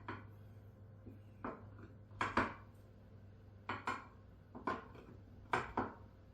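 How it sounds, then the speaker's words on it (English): A knife cutting homemade biscuit dough into about nine pieces, with soft, close chops landing on a board in small clusters of one to three, separated by short pauses, over a quiet background hum. "we're just going to cut it into about 9 even pieces"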